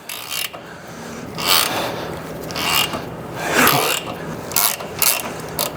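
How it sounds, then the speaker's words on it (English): A ratchet wrench clicks and grinds in repeated bursts while loosening a stuck nut on a 1969 Ford LTD that had been sitting for years, the pawl chatter rising and falling close to the listener with faint scraping between strokes. "I have to use this wrench again"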